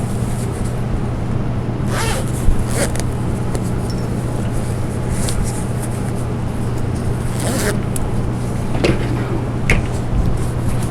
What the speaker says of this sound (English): All the way as far as you can with that zipper.